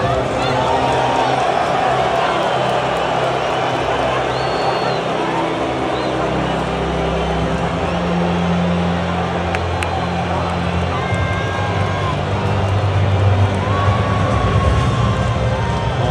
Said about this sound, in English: Just listen to all of these people on the ground right as he's walking by them, booing him to his face